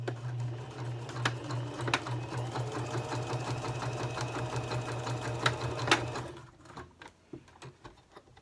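Sewing machine stitching a single line down the center of a fabric bow tie, a fast steady close mechanical whir and patter that stops abruptly near the end, followed by faint handling clicks.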